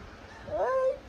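A single close house cat meows once, a short rising-then-falling cry over quiet room noise.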